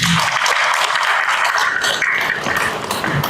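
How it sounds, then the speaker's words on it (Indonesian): An audience applauds for a newly examined doctor at an open doctoral examination, a steady, dense round of clapping heard close and fairly loud throughout, with no speech over it. "kita berikan tepuk tangan untuk Dr. Rika ini"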